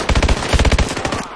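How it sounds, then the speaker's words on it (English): A submachine gun fires a rapid burst of about a dozen shots in Call of Duty Advanced Warfare during a gun game match, close and loud, with the shots fading out at the end. "This gun's the worst submachine gun."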